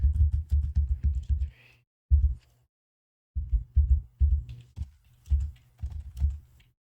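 Computer keyboard typing in quick bursts of close key clacks, with short silent pauses between runs and a longer gap in the middle.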